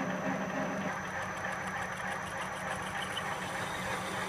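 A Harbor Freight 12x36 metal lathe parts off a steel spindle adapter with an inverted cut-off tool, giving a steady, close mechanical hum and whine that holds evenly throughout.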